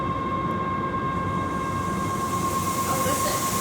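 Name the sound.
feed mill mixer motor kicking up under load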